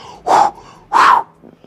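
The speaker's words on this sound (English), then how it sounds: "You hold the nose, hold the jaw, and you give them 2 heavy breaths." Two strong rescue breaths are blown in during a CPR demonstration. They are close, breathy bursts about half a second apart, with a faint noise after them.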